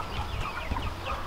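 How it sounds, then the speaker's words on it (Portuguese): A giant Índio hen clucks in a farmyard, a few soft, close clucks over a steady low background for a little over a second. "uma galinha desse tamanho aí"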